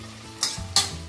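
Ginger garlic paste frying with sliced onions in a pan, soft sizzling with two short bursts of stirring scrapes, close and fairly quiet, no talk.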